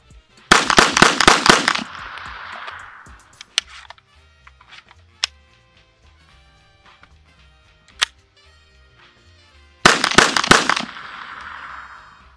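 A Kel Tec PMR30 pistol fires two fast bursts of about five sharp, loud shots each, close, with echoing tails, separated by several seconds of quiet clicks and handling noises.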